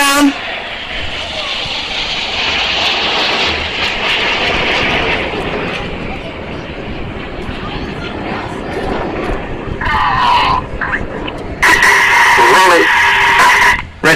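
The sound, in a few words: Red Arrows jets flying past at an air show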